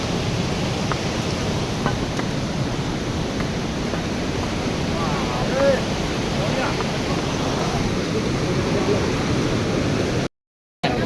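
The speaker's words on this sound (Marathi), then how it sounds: "मागे गंगा नदी वाहते ग्लेशियर आहे" The glacier-fed Ganga rushes past near the Gaurikund hot springs at the start of the Kedarnath trek, a steady, full roar of flowing water that stays constant throughout and cuts out briefly just before the end.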